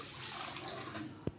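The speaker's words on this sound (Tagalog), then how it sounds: "So, lalagyan natin sa ng tubig." Tap water running steadily into a cooking pot while making pancit with calamansi, a continuous broadband trickle close by, ending in a brief thud before cutting off.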